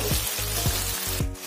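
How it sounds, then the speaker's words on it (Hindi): Raw mango and ginger sizzle and fry in hot oil for a Halwai-style sweet-sour pumpkin sabzi, a steady close crackle with faint stirring scrapes. "अब इसमें डालेंगे कैरी, अदरक, इन्हें भी 1 मिनट ऐसे भूनेंगे तेल में।"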